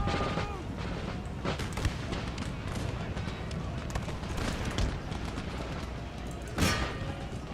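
Troops firing at will in the video game Empire: Total War: a dense, ragged crackle of musket volleys and cannon booms with loud individual shots, continuous and busy throughout.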